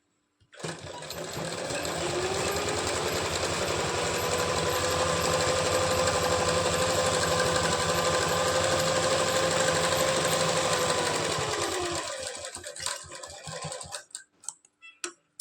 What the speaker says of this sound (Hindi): इस पर सीधा मशीन से सिलाई लगा देते हैं